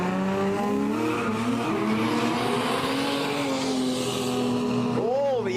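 XE car racing at a no-prep drag event, engine roaring loud and steady with rising and falling pitch, ending in a sharp swooping wail as it passes, with commentary over the top.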